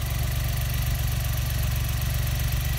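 The 822 cc three-cylinder, 50-horsepower engine of a 2018 Textron Prowler Pro XT side-by-side idles with a steady, even, close-up mechanical throb that continues alone without talk.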